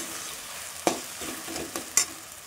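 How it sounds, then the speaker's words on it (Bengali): A spoon stirs sugar into a sago pearl laddu mixture in a pan, a few distinct scrapes and knocks spaced over a couple of seconds against a soft, quiet background with no talking. "চিনিটা দিয়ে খুব ভালোভাবে নাড়িয়ে চাড়িয়ে নেব।"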